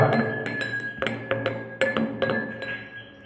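A glass filled right to the brim with water is struck again and again, giving a lighter, higher ringing tone. The clinks come in an irregular series of bright, resonant strikes, close and clear, with no voices.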